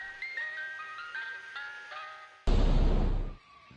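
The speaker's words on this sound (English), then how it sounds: "suddenly, a garbled ice cream truck theme starts" A distorted ice cream truck jingle plays a few bright chiming notes, then cuts abruptly into a loud burst of harsh noise that fades after about a second, with no voices.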